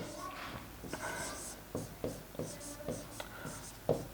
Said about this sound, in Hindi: या हम लिख सकते हैं कि